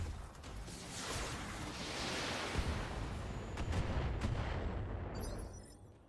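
Missile volleys fired at a spider mech in the BattleTech video game, a dense rushing barrage of launches and impacts that swells and rumbles for several seconds before cutting off, fairly quiet overall.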